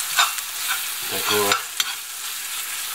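A flour paste sizzles and fries in a pan while a utensil scrapes and stirs it; a voice speaks briefly in the middle.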